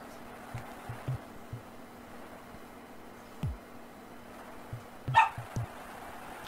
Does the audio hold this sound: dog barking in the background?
yes